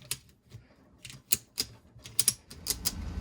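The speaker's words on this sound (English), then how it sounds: "I'm just going to start ratcheting this together." Ratchet strap being cranked tight around a snowblower's tubeless tire, giving a series of sharp, close mechanical clicks in an uneven rhythm, quiet between strokes.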